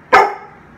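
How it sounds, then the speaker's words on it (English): A single sharp bark from a puppy, close and loud, fading quickly into quiet room tone. "This is my puppy, Evelyn."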